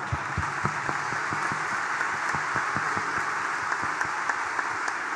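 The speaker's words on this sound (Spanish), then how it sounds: "Le damos un fuerte aplauso." A congregation applauding during a Mass for the Feast of the Assumption in San Juan de los Lagos, a steady crowd clapping with sharp individual claps standing out, moderately distant and without voices.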